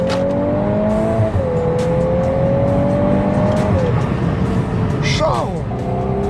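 A Volkswagen Golf 8 R with a 420 hp engine accelerates hard in sport mode, its engine note rising in long steady pulls and dropping at gear changes, close and loud with a brief tire squeal near the end.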